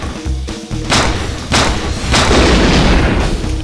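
Heavy booming blasts from a rocket launcher in the shooter game XIII during a shootout at a chalet, three big thuds in quick succession, loud and close with dense rumbling crackle between them.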